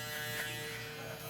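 Electric hair clippers cut hair for a fade, giving a steady close buzz with a faint voice in the background.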